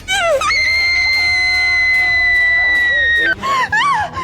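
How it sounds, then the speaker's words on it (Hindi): A long, shrill, sustained scream held for nearly three seconds, loud and close, framed by shorter wavering shrieks at the start and end. "क्यों चिल्ला रही हो?"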